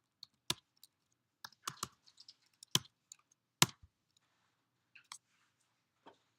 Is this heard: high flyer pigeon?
no